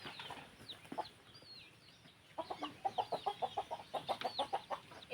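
A rooster for sale clucks close by in a rapid, rhythmic run of short calls after a few scattered earlier clucks, fairly soft against faint background noise, no talking.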